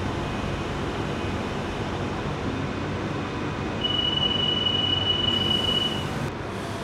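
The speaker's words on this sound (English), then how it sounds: "This is a Central Line it's definitely an older train." An older London Underground Central Line train running, heard as a loud, continuous rumble and rattle from inside the carriage, with a thin, high wheel squeal rising partway through and no one speaking.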